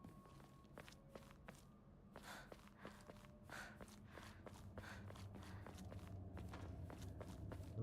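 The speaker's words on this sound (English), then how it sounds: "I heard a footstep though." Footsteps in the horror video game Silent Hill f, a string of evenly paced, crisp steps close by over a low ambient drone, with occasional breathy sounds between them.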